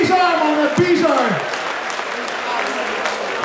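Applause from a live audience at a Dutch charity swim event, steady broadband clapping that continues throughout, with voices calling out over it near the start.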